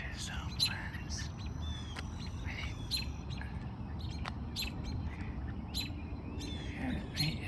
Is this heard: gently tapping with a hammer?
no